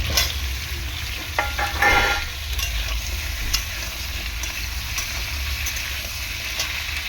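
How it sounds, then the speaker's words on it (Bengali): Vegetables, including pumpkin and tomato, are stirred and fried in hot oil in a pan for a chickpea and soybean curry. A steady sizzle continues under occasional scraping and clinking of the spoon, with a louder stir near the start. "তেলের মধ্যে সবজিগুলো একটু ভেজে নেব।"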